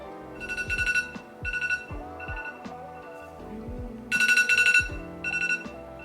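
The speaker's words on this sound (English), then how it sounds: "that was my alarm." A phone alarm rings in repeated bursts of a bright, chiming ringtone melody over a steady musical backing, fairly loud and close, with no talking.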